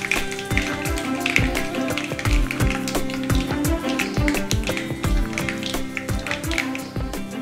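Bold mustard seeds, cumin and dried red chillies splutter in hot oil for a tomato pickle tempering, making a dense, irregular stream of sharp pops and crackles with soft thumps, close and fairly loud throughout.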